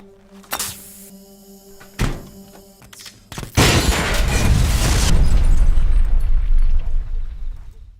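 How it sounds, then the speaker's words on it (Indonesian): A large explosion in a film, set off by a cut gas pipe and a knife placed in a microwave: a few sharp thuds and knocks, then a loud sustained roaring blast with rumbling debris that lasts several seconds. "memasukkan sebuah pisau ke microwave untuk memicu ledakan"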